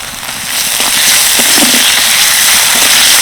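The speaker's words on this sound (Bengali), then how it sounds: "পেঁয়াজটাকে বেশ লাল লাল করে ভেজে নিয়েছি এবার দিয়ে দেবো থেঁতো করা আদা রসুন আর কাঁচা লঙ্কা" Onions fry loudly and close in a pan, a dense, continuous crackling sizzle, as crushed ginger, garlic and green chilli go in for a spinach and chana dal dish.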